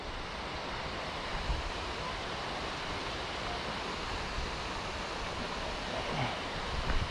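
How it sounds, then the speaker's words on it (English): Continuous broadband rushing water roars evenly throughout, like a waterfall heard from nearby, with no voices, at Clear Creek Falls in Colorado. "And we are coming up onto the waterfall."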